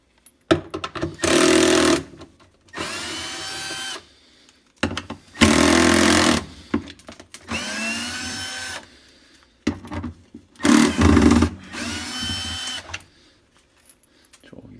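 A power drill backs 5/16 screws out of the pump on a Whirlpool top-load washer, sounding as several close, loud whirring bursts separated by short pauses.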